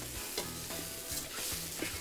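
Arborio rice stirred in a pan with mushrooms, onions and leeks for risotto, a steady close sizzle under repeated scraping strokes of a spoon, with no talking.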